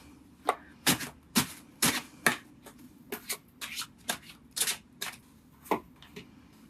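Tarot cards are shuffled by hand in quick bursts of crisp riffling and snapping slaps, each burst short and fairly close, with brief pauses between them and no talking.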